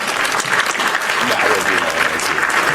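Hand clap sound effect on a podcast: a dense, loud burst of applause-like clapping that runs throughout while someone talks over it.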